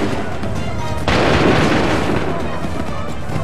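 A volley of musket fire in Assassin's Creed 3, a loud burst of many shots at once that breaks in sharply after a moment and then rumbles and crackles away into the battle din.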